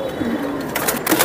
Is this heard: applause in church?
no